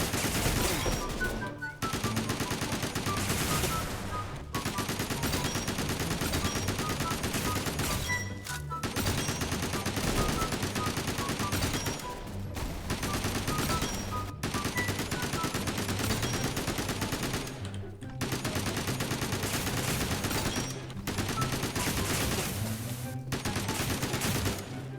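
Near-continuous automatic gunfire from a custom-built gun with a red dot sight in a video game. Long dense bursts are broken by brief gaps, loud and close throughout.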